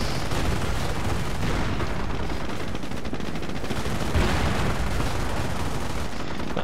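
Dense, continuous gunfire and battle noise from the World War II strategy game Company of Heroes, with a Panzer IV under fire from a high-velocity gun, loud and sustained with no break throughout.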